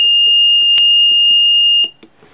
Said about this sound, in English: that's what happens after the alarm goes off.